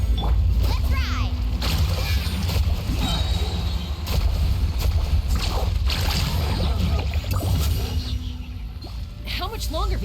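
Water splashes and rushes continuously under a surfboard riding waves in Genshin Impact, with game voices and music playing over the loud, steady wash of surf.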